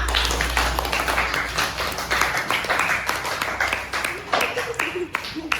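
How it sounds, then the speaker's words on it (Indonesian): Classroom applause for group presentations in an Indonesian lesson, a lively burst of many hands clapping nearby with sharp irregular claps and a few voices mixed in. "Tepuk tangan untuk usaha-usaha kita semua."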